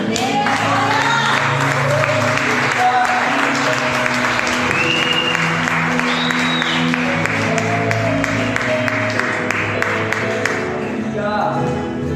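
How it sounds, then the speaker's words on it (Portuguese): Church congregation applauding in praise during a family worship service, a dense, steady wash of many hands clapping throughout, with faint voices and music mixed underneath. "as palmas louvam ao Senhor"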